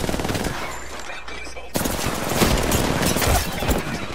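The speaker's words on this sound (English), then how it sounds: "They're shooting at each other." Rapid automatic gunfire in Apex Legends, a sustained burst of shots that turns dense and loud after a brief lull, with distant firefights going on and a voice faintly underneath.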